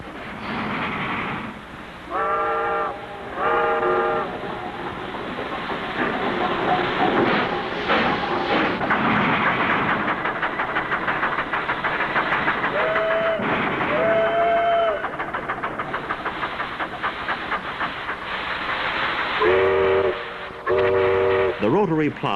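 A White Pass rotary snowplow's chief signals the locomotives with a series of whistle blasts, distinct toots repeated at intervals over the steady rumble of the train, while someone narrates.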